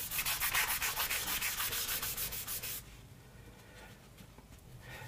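Wood on a Hofner Galaxie guitar is sanded by hand in about a dozen quick, rhythmic back-and-forth strokes, close and scratchy, then stops, leaving near silence.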